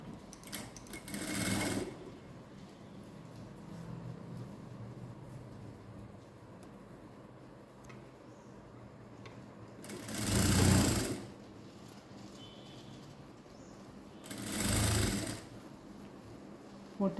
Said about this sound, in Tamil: திருப்பிட்டு மேலே படிமான தையல் போட்டுட்டு வாங்க